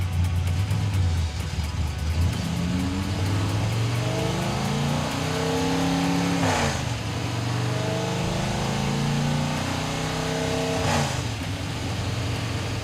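A 1956 Chevy's engine runs steadily, then revs and accelerates through rising gear sweeps, dropping and climbing again, loud and close throughout.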